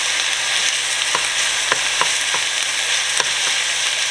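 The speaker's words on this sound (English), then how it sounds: "I'm putting my garlic in first. About 2 or 3 garlic cloves." Two or three garlic cloves frying in a pan with steady close sizzling, broken by intermittent light taps and scrapes of stirring, no talking.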